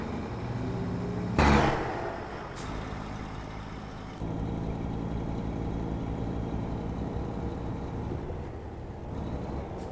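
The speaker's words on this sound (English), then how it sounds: "Get some cinematic shots of the truck going by." An oversized-load truck in American Truck Simulator rumbles past with a continuous low engine drone, marked by a sharp burst of noise early on and a shift in tone partway through.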